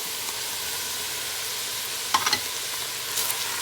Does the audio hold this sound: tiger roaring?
no